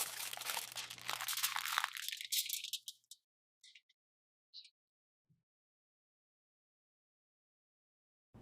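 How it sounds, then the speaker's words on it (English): Aluminum foil crinkling and rustling up close as a cookie roll is shaped, loud for about three seconds, then a few faint isolated crinkles before silence. "Now place the mixture onto aluminum foil and shape it into a tight log,"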